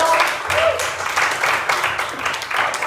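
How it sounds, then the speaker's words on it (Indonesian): Classroom applause for a student named Dinda, a dense patter of hand claps from a group of pupils, fairly close and steady for a few seconds. "Tepuk tangan buat Dinda."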